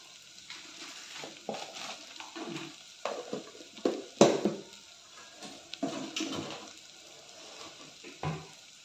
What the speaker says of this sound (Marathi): मिरची पावडर घालून चांगलं मिक्स करून घेऊया.